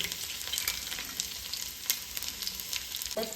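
Garlic frying and sizzling in hot oil in a home kitchen, a steady hiss with a few light utensil scrapes, close and moderately loud, no talking.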